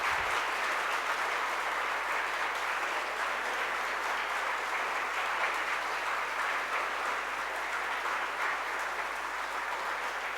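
A large audience at a youth convention applauds continuously at full strength, a dense, even roar of many hands clapping that lasts throughout.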